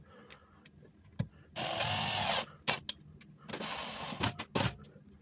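An electric drill bores into a gas grill during a DIY repair of rusted burners, with two loud bursts of drilling about a second each, separated and surrounded by sharp clicks and knocks.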